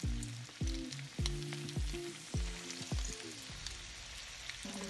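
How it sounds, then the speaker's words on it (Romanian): Pork meatballs dropped one by one into hot oil in a pan, each landing with a sharp burst of sizzle, about six in steady rhythm, then a continuous soft frying hiss. "Începem să punem în tigaie. S-a încins uleiul."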